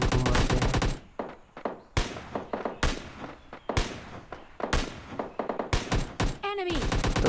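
Bursts of automatic gunfire from the PUBG Lite video game as enemy bots are shot, loud rapid volleys separated by short pauses, with a clattering burst near the end.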